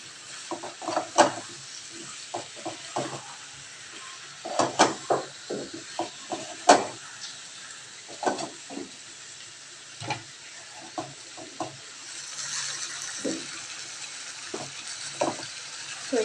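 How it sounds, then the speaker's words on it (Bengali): A spoon stirs spiced curry in a pan, giving irregular scraping clacks and taps over a low, steady sizzle, moderately close. "কিন্তু তার আগে একটু নেড়ে দিই ভালো করে।"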